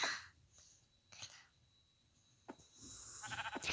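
A few thin, wavering sheep bleats close by, with clicks and rustling between them and a quiet pause in the middle.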